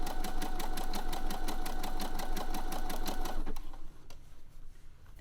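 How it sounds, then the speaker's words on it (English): Sewing machine running a slow triple stitch on fabric, a steady rhythmic mechanical whir with regular needle pulses for about three and a half seconds, then cutting off to quiet. "The triple stitch is a relatively slow stitch, so I just kind of let it do its thing."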